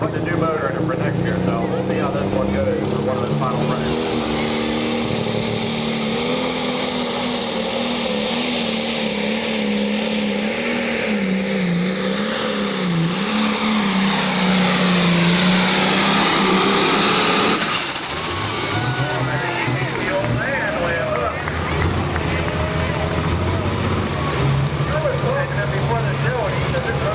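Heavily loaded tractor engine roaring through a pull run, a sustained loud drone with shifting pitch that cuts off abruptly near the end, leaving lower engine idle and background noise, with announcer talk over it.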